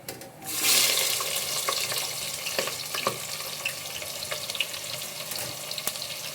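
Onions hitting hot oil in a pan, a loud burst of sizzling that settles into a steady crackling fry with scattered pops and clicks.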